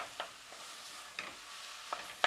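Ground beef, onion and bacon fry in a pan under a soft steady sizzle, while a utensil gives a few sharp scraping taps against the pan, close by and with no talking.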